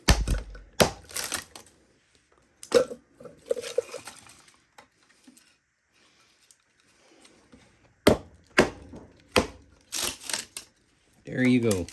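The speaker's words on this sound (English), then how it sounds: "And then he would cut it this way to cut the wood." Wood being cut for building a fire gives sharp, irregular chopping knocks, some loud and close, separated by quiet gaps, with a voice talking in between.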